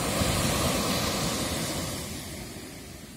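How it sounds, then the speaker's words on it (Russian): Ocean waves break at Bang San beach in Phang Nga, Thailand, a broad, continuous wash of surf that slowly eases and fades over a few seconds, with no voices. "Вот она. Вот такая волна здесь."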